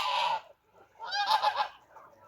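Farmyard geese honk in two loud, close bursts separated by a short pause, their nasal calls clear against an otherwise quiet yard.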